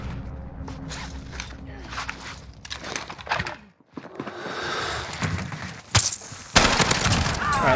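Gunfire in the Warzone video game, with bursts of shots scattered across the clip against game ambience, louder sharp cracks near the end, and faint voices in the background.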